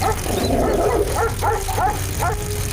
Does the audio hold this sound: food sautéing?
no